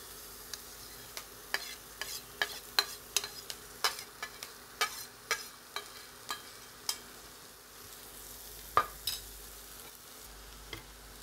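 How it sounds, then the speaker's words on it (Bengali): Chopped ginger, garlic and green chilli fry in hot butter under a low, steady sizzle, punctuated by a string of sharp clicks and scrapes from stirring, with no voices. "কাঁচা লঙ্কা ভাজা ভাজা হয়ে গেছে"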